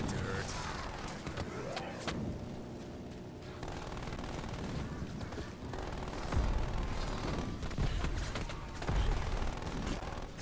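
Rapid bursts of automatic fire from a sentry turret in a shooter video game, rattling fusillades over a mid-level din with heavier booming hits toward the end.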